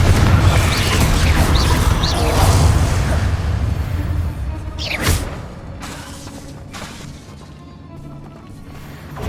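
A Confringo blasting spell bursts in Hogwarts Legacy, a sharp explosive crack near the middle over a dense rumbling game soundscape, followed by fading crashes and debris clatter.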